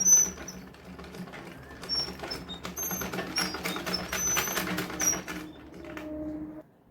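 Sewing machine stitching a blouse, running in a steady rapid mechanical patter of needle strokes for several seconds, close and clear, then stopping near the end.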